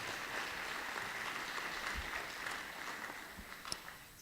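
A school audience at a state of the school address claps in a steady, fairly distant wash of applause lasting a few seconds.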